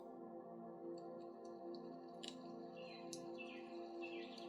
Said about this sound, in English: Do you hear the birds calling us?